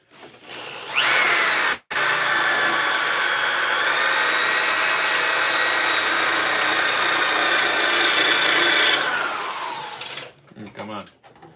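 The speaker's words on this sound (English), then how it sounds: "Now I can drill this." A power drill runs at high speed boring a hole, starting with a short burst, then a brief pause and a long continuous whine before winding down into clicks and handling noise.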